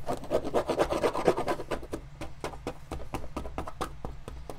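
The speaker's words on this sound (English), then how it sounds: "So once this is all scraped off" Rhythmic rasping scrapes as old finish is scraped off a Florsheim leather shoe, quick close strokes in steady succession, heavier at first and then lighter and more spaced.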